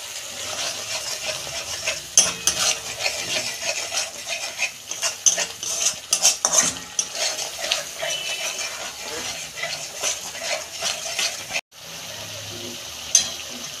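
Spice masala for chana paneer is stirred and fried in a pan, with a steady close sizzle, utensil scrapes and clinks throughout, and a brief sharp clatter near the end.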